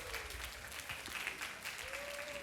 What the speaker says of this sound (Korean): 셀리더를 향해서 수고 많았다고 박수 쳐줘야 돼요